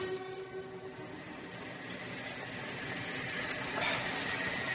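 A train pulls away in a radio drama sound effect, with a steady rolling rumble, a brief whistle-like tone near the end and a rising, fairly faint rattle, heard alone.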